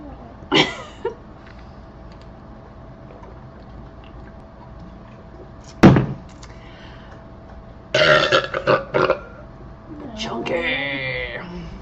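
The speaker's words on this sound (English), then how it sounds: "My daughter doesn't like my burping" A woman burps after chugging a drink, with a few loud separate belches of different lengths spaced across the moment and short bits of her voice between them.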